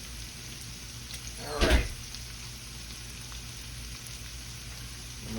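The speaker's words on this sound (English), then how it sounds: "Can't go wrong with onions and bacon cooking." Onions and bacon fry in a pan with a steady, soft sizzle and one brief louder hiss partway through, while a voice speaks a couple of words.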